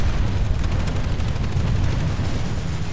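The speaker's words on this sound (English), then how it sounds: "there's a guy shooting at you" Gunfire in the online shooter Planetside 2 comes as a dense, loud, continuous barrage of rapid shots and blasts, relentless and close for the whole stretch.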